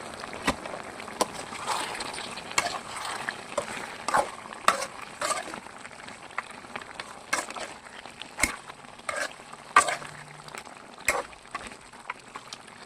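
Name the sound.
stirring fenugreek chicken in a cooking pan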